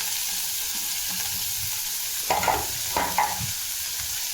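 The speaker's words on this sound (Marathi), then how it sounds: "इथं मसूरची डाळ टाकून तर इथं भाजलेली भाजी टाकून घ्यायची आहे तेलात" Ghol bhaji leaves and vegetables fry in oil with a soft, steady sizzle, broken by two brief bursts of stirring scrapes. The sound is close but fairly quiet, with no talking.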